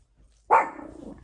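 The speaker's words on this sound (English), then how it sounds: "Oh, my dog's gonna bark." A single dog bark lands sharply about halfway through, near and fairly loud, then tails off into a short rough growl-like trailing sound before fading back toward quiet.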